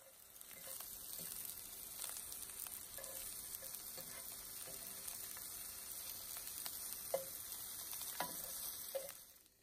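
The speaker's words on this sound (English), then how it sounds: "You want to cook them on medium heat for about 8 minutes until they start to turn golden brown." Food frying in a pan over medium heat, a steady soft sizzle with faint crackles and light stirring clicks, close and continuous with no talking.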